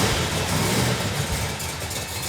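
Rumbling idle of a 1970 Plymouth 'Cuda engine fitted with a big Comp cam, loud and close, running steadily with a dense low throb and no voices.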